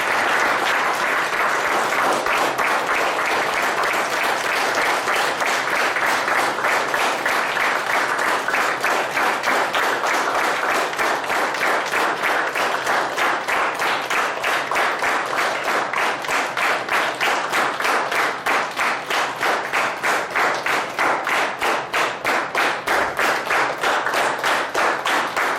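Sustained audience applause at a lecture on ancient mythological stories and the Mahavakyas, dense steady clapping from a large crowd, loud and even, with a faint rhythmic pulse near the end.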